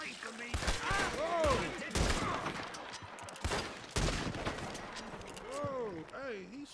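Gunfire in the Red Dead Redemption 2 video game, a few sharp shots amid busy game action, with someone talking and yelling over the top.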